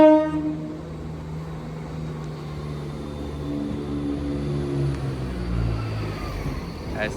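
Midland Main Line train at Sheffield station, a steady engine rumble with tonal hum that rises and shifts as it idles or pulls through the platform nearby.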